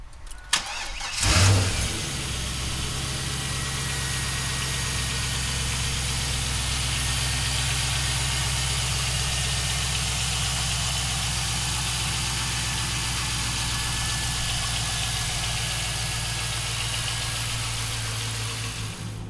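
A 2002 Chevrolet Camaro engine cranks and catches with a short roar, then settles into a steady, even idle that rumbles on close by for the rest of the clip.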